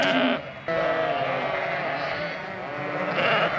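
Ewes bleating in a dark barn at night during loading, a few loud, close wavering calls overlapping one another, with quieter shuffling between them and no talking.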